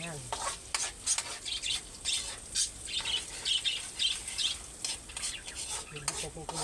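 Ricado aromatics sauté in a pan in a small home kitchen while preparing pretong tilapia with garbanzos, giving a steady, close sizzle broken by repeated scraping stirs and clinks of the spatula.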